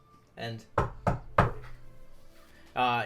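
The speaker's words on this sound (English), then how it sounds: "And then knock on Franchester's real door." Three sharp knocks on a door in quick, even succession, close and loud, with people talking just before and after.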